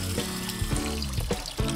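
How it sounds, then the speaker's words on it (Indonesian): White glutinous rice being rinsed under running water, with steady splashing and trickling broken by a few sharper clinks and stirs, close and moderately loud. "Beras ketan yang telah bersih harus dicuci pada air mengalir."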